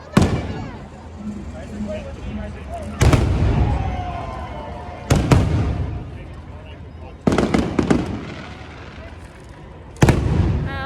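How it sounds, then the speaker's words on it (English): Five loud firework booms at Disneyland's Star Wars Nite burst at intervals, each trailing off into a crackling rumble, with faint voices and background noise between blasts. "Fireworks were disappointing"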